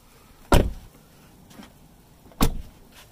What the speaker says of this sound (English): there is a noticeable difference in terms of sound already when closing it